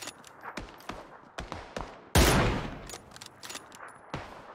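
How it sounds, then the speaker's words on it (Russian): Sharp gunfire in the battle royale game PUBG: several quick distant cracks spread across the clip, with one louder, longer blast in the middle and faint background noise between shots. "издалека слева был звук выстрела"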